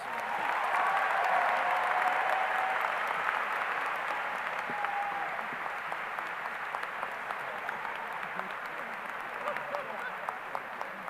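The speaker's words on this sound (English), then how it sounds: "Please give them another big round of applause" Sustained applause for a graduate at a high school graduation ceremony, a broad, even roar of many hands clapping in a large hall that continues for several seconds and eases slightly near the end.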